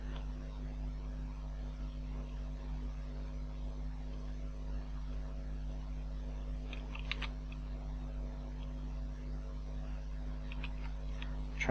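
Computer keyboard keys pressed in quick clusters while playing Kerbal Space Program, with control, F and WASD keys held and tapped; soft, close clicks sit over a steady electrical hum, mostly sparse with a few brief bursts.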